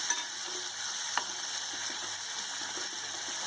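Spices stir and sizzle in a frying pan with a splash of poppy seed water over a low flame for jackfruit curry, a steady close hiss broken by soft scraping of the spoon.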